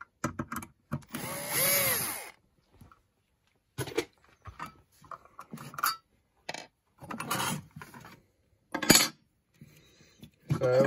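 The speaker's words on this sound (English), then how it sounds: "Save time, I'm just going to use the drill." A cordless power drill whirs in short bursts, backing screws out of a Fitzgerald MLP8 8W T5 mini fluorescent batten fitting, with a sustained run early on, then clicks, clatter and brief spins close by.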